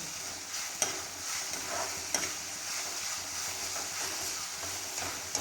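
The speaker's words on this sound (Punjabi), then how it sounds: "ਮਤਲਬ ਆਪਾਂ ਕੰਟੀਨਿਊਸਲੀ ਇਹਨੂੰ ਹਲਾਉਂਦੇ ਰਹਿਣਾ" Tamarind mahni being stirred continuously in a pan, a steady low sizzle of frying with scraping stir strokes and occasional sharp clinks, moderately close and without speech.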